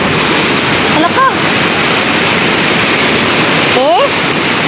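Strong sea waves during Typhoon Kristine roar and crash against an eroding shore in a constant loud rush, with brief excited voices briefly heard over the surf.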